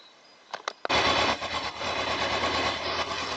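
A cold motorcycle engine idling at about 1000 rpm during an oil pressure check, starting after a couple of clicks into a steady, loud, rapid mechanical chatter that runs on evenly.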